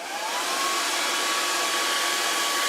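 A hair dryer blows warm air over watercolour paint, a steady, loud, close whooshing hum with no talking.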